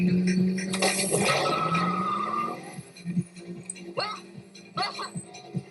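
A Honda S2000 launches in a drag race against a tiny Choro-Q toy S2000: a loud engine rev and tire squeal up front, then fainter whirring and clicks as people talk.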